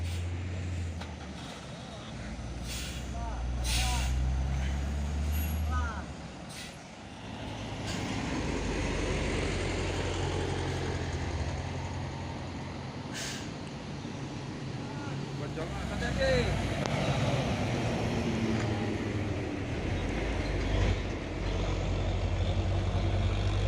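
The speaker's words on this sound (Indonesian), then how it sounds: "Ada 2 unit truk trailer ini ya. Sepertinya mau beriringan menanjak." Two truck trailers climbing a hill in a convoy, their engines giving a deep, sustained low rumble with brief hissing bursts. People talk over the engine noise.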